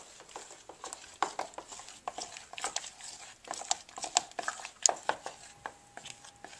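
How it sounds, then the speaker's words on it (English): Small clinks and scraping taps of a spoon gently stirring melting chocolate in a bowl, irregular and close, with soft crinkly handling noises in between. "just use a spoon and stir it gently and it'll all get melted"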